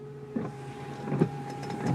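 A BMW E34 windshield washer pump, stuck on, whines with a steady electric hum and a faint hiss of spraying fluid, with a few small knocks over the continuous drone.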